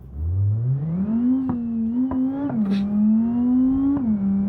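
A video game car engine in BeamNG.drive revs up and holds a steady high drone, with brief clicks of gear shifts, loud and close.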